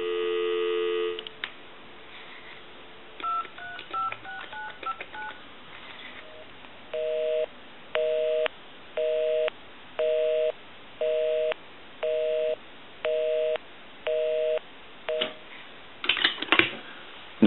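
A Wedgwood Jasperware Astral telephone, repaired and converted, gives a short burst of dial tone, then a quick series of touch-tone dialing beeps followed by a regular run of evenly spaced busy-signal pulses, all clear and close.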